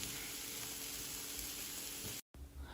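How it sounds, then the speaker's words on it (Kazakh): Peppers frying in a pan until soft, a dense continuous sizzle hissing close and steady, broken by a brief cut near the end. "осы жерде перецті салғаннан кейін 5-7 минуттай жұмсарғанша қуырып аламыз"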